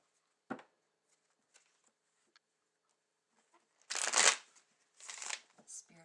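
Tarot cards being shuffled during a reading, with a faint tap early on and then two louder, close bursts of riffling card shuffles near the end.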